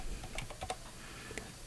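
A handful of soft, scattered keystrokes on a computer keyboard, faint and close, with no voices.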